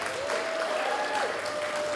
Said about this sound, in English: How about another round of applause for Dr. David Palaita?